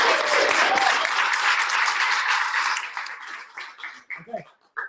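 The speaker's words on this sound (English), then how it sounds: "round of applause for Amy" A room full of training participants breaks into loud, dense applause for a colleague. It holds steady for about three seconds, then fades into scattered claps, and a voice comes in at the end.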